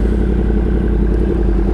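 Yamaha R1M crossplane four-cylinder motorcycle engine idles loud and close, a dense, lumpy burbling rumble held steady throughout.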